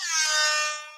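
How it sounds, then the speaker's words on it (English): A single air horn blast from a phone app, loud and close, holding steady for about a second before trailing off, with no talking over it. "I got air horn apps"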